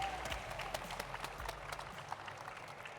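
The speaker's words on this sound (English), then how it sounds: "One more big round of applause and some noise for Alliance number 2, our regional finalists here at Hudson Valley." Distant applause and crowd noise in an arena at the 2025 Hudson Valley Regional robotics competition, a fairly faint, steady wash of clapping with occasional thumps.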